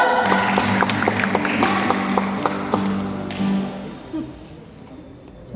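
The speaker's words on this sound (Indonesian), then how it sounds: "Tepuk tangan dulu" After a youth sermon-reading contest entry at a church event, the audience gives a burst of close, dense clapping mixed with tapping and a low steady hum, then thins out and fades after about four seconds.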